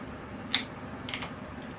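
A square cut is made through the young trunk of a dawn redwood bonsai during repotting, giving one sharp snip followed a moment later by a softer second snip against quiet background.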